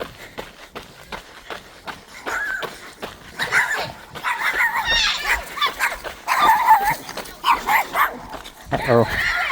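Dogs bark in repeated bursts of yips and woofs from somewhat nearby, heard along a jogging route through a small Nebraska town, mixed with footsteps and a voice talking over them.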